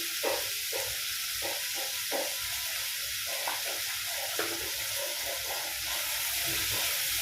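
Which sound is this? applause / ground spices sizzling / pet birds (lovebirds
ground spices sizzling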